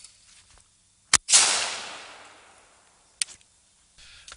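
A shotgun fires at a clay target outdoors, one loud sharp blast that rings out and fades over about two seconds, with a brief click before it and another short crack later.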